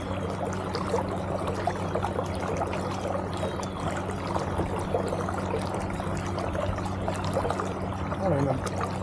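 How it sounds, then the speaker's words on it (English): A Bixpy K-1 electric motor drives a paddleboard at full speed, giving a low, steady hum under continuous water swish and trickling along the hull, fairly close throughout. "The motor's quiet. I'm sure you can hear it, right? But it's not that bad."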